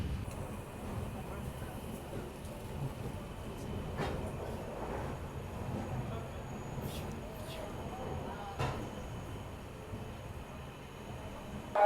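A 12334 Vibhuti Express sleeper-class coach runs with a steady, low rumble from wheels on the rails. A few faint clacks and squeaks mark the track joints throughout.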